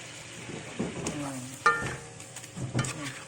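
Sweet soy sauce goes into a hot pan of chicken for ayam kecap jeruk limau and is stirred. A steady sizzle runs under intermittent scraping stir strokes, close and moderately loud.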